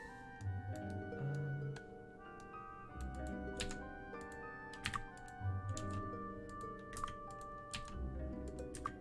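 Computer keys clatter in irregular bursts of rapid typing during a session of the PC role-playing game Might and Magic VII, close and moderately loud over a faint hum of game sound.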